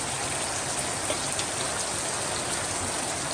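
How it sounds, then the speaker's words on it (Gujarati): Steady rain pours down on a farm field in the countryside, a dense, even hiss with no breaks and no voices. "વરસાદ આવવા મળ્યો છે, વાદળું સીડ્યું છે."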